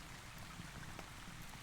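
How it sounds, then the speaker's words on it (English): Soft rain with a faint patter of drops against a constant wash of falling water, quiet and even, with no voices. "it was raining in the book and it's raining in our sounds"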